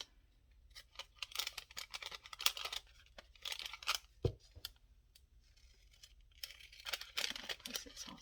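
Paper being trimmed for a junk journal makes quiet, close-up snips and rustling cuts in irregular bursts, with a few sharper clicks and one heavier thump midway.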